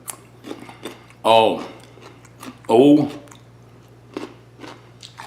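Pickled carrots with garlic, still firm in a vinegary brine, bitten and chewed up close in two loud crunchy bursts about a second and a half apart, with faint room hum and a brief voice in the quiet gaps.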